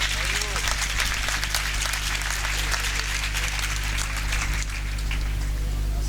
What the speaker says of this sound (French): elle est applaudie